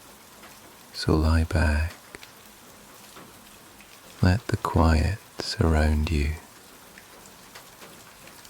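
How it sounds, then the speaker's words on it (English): Gentle rain falling steadily at night, a soft, even hiss beneath a calm, slow voice speaking in phrases. "let the rain drift you gently into the story"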